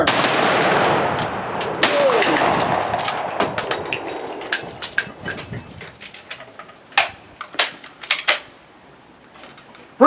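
Rifle volley at a Victorian rifleman shoot, with sharp, loud gunshot cracks. Some land together and others are scattered, several close shots in quick succession followed by fainter pops and echoes. No voices are heard.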